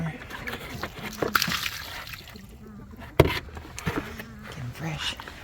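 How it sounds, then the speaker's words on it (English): A water jug from a chicken coop is emptied, water sloshing and splattering in short bursts with a sharp knock midway, while a person talks over it. "So I'm just gonna dump their water."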